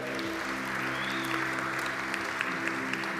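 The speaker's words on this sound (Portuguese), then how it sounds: "Gente, vamos aplaudir a vida da Daiane." A church congregation standing and applauding together, steady dense clapping that fills the room for a few seconds with a faint murmur underneath.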